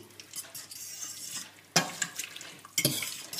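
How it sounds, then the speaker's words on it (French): Sausage rougaille stirred in a pot after half a litre of water goes in, with a few faint scrapes and clinks and two louder sloshing stirs near the end, no voices. "On mélange le tout."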